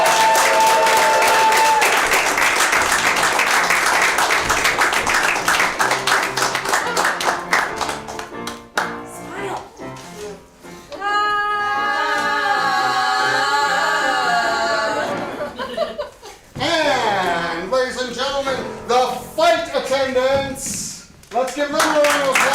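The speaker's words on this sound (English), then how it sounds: "Let's bring in the middle school chorus and give them a round of applause." Crowd applause at a theatresports improv show for a middle school chorus, loud massed clapping at first, later thinning under voices and tonal, sung-sounding passages that rise and fall.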